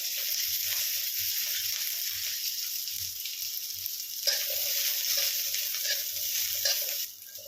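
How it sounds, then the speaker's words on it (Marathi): Steady hiss and crackle of garlic frying in about a spoonful of hot oil in a wok, with soft clicks of a spatula stirring throughout. "याच कढईमध्ये लसूण सुद्धा थोडंसं परतून घ्यायचं आहे, चमचाभर ना तेल घालायचं।"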